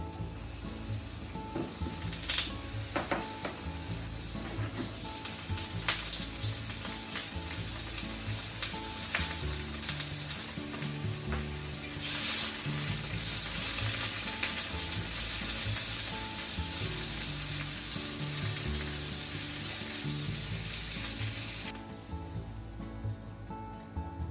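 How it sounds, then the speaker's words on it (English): Steady crackling sizzle of sausages frying in hot vegetable oil in a pan, with occasional scraping and stirring clatter throughout. "Heat up a little bit of vegetable oil in the frying pan and just cook the sausages."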